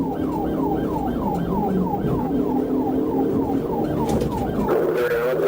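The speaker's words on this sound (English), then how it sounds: "officers activated their emergency lights and sirens" Police sirens wail in a steady, rapidly repeating rise-and-fall during a high-speed pursuit on a highway, loud and close, with road and engine noise underneath and a shift in tone near the end.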